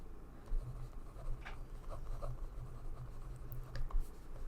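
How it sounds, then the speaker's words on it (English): A pen scratching across paper at an ASMR book club preparation session, soft continuous scribbling strokes with faint ticks, close and quiet with no talking. "I hope you can hear me writing"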